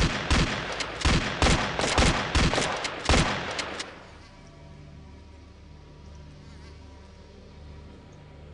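Rapid bursts of automatic gunfire ring out in Chromosome Evil, about eight sharp shots over three seconds, then fade into a quiet game-ambience hum.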